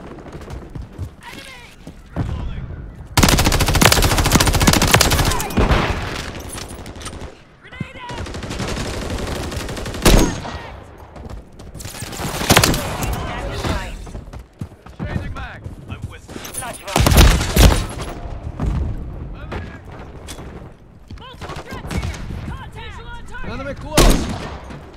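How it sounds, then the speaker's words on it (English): Loud bursts of automatic gunfire and single shots in Call of Duty Modern Warfare III on the Rust map, coming in heavy clusters separated by quieter gaps. "Taking effective fire."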